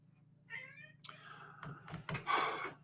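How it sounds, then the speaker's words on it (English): A domestic cat meows indoors in a few short, close calls, rising and growing louder toward the end, with some thumps and rustling between them and no talking. "I'm going to go kick the cat out."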